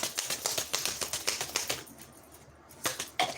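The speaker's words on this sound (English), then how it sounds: "I had 2 cards that I didn't shuffle with this, so I'm going to shuffle it again" A deck of tarot cards is shuffled by hand in a rapid run of crisp riffling clicks for about two seconds, then a pause and a couple of final taps, close up with no talking.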